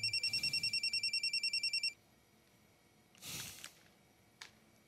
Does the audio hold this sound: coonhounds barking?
no